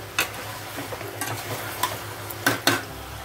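Chicken pieces and potatoes stirred and sautéed over a high flame for a chicken curry, a steady low sizzle broken by several sharp scraping clacks of a spoon against the pan, close by and with no talk.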